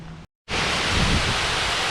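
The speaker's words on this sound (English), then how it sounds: "I can hear water running" Black Brook runs beside Bugsworth Basin on a windy day, giving a steady, loud broadband rush of water that continues after a brief cut near the start.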